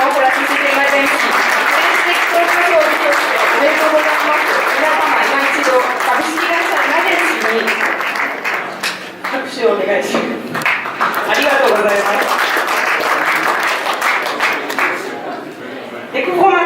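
Sustained audience applause at a French business awards ceremony, a dense steady clatter of many hands lasting throughout, with a presenter's voice and some cheering rising over it partway.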